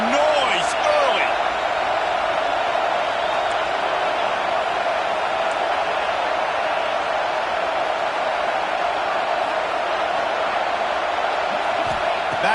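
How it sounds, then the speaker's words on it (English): Stadium crowd at a Florida vs Clemson college football game roaring steadily, a dense sustained wall of cheering and noise throughout with occasional louder shouts. "This crowd bringing the energy and noise early."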